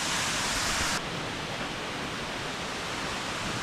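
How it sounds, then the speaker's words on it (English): A 155 ft waterfall in Idaho roars as a steady, dense rush heard from above the falls, loud and constant with no voices, slightly fuller for the first second. "So now we're above the waterfall."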